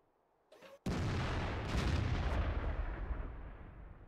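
In World of Tanks, an artillery gun fires a single shot, a heavy deep boom that follows a short click, then a long rumbling roar that slowly fades over several seconds.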